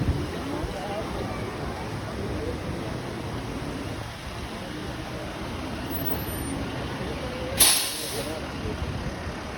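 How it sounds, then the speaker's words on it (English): Street traffic rumbles steadily around a garbage truck until its air brakes let out one sharp, loud hiss near the end, with people talking over the noise. "no, it's a garbage truck"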